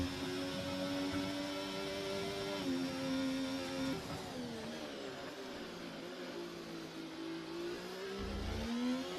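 A Formula 1 car engine on a flying lap at the Texas circuit in the F1 24 racing game, a loud sustained whine that climbs in pitch, drops at each gear change and builds again throughout.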